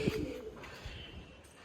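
A pigeon gives a brief low coo at the start, then only faint background noise follows.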